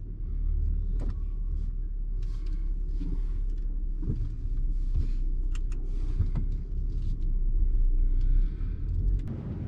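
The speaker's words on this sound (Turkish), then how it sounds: "Aracı çalıştıralım." A 2021 Audi Q5 being driven, a steady low engine and road rumble heard from inside the cabin, with occasional soft clicks and thumps and a slight swell in loudness partway through.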